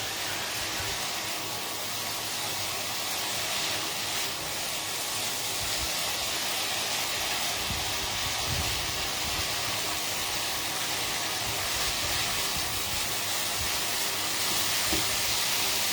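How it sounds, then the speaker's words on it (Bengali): Spice paste mixed with water simmers on high heat in a pan, giving a loud, steady, hissing sizzle that stays even throughout. It is close, with no talking. "আর একটু জল দিয়ে এবার হাই টেম্পারেচার দিচ্ছি মশলাটা সেদ্ধ হওয়ার জন্য।"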